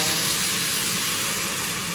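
Loud, steady hissing sizzle of water hitting hot oil in a pan, bright and continuous throughout with no voices.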